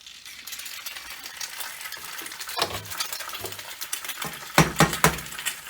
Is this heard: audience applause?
no